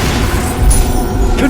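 Bombarda spell explosion in Hogwarts Legacy, a loud, dense blast with a deep low-end rumble that fills the short moment, over continuous heavy game noise.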